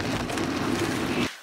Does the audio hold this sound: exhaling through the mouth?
no